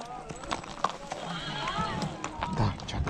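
A horse is heard in a rural setting with clip-clop hoof sounds and a whinny-like call, faint and mixed with people talking nearby.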